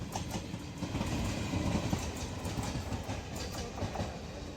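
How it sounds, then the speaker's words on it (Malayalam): An Ernakulam–Kollam special MEMU train runs past with a steady rumble and rhythmic clickety-clack of wheels over the rails, continuous and fairly close, with no talk. "ട്രെയിൻ വന്ന് മെമു ആയിരുന്നു, എറണാകുളം കൊല്ലം സ്പെഷ്യൽ"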